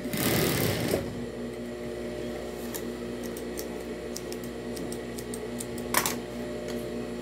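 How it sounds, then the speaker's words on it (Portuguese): A sewing machine stitches a fabric phone holder, running in a steady, close, mechanical whir with faint rapid ticking that continues for several seconds. "Ainda vai passar a costura, ó. Você vem aqui, ó. Passa uma costurinha."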